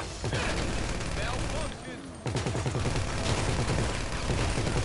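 Rapid gunfire rattles almost without pause during a drug-dealer shootout in GTA 5, loud and dense, briefly thinning before a fresh burst, with a voice speaking over it.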